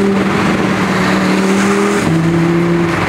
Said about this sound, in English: the only thing that isn't cool today is this freaking engine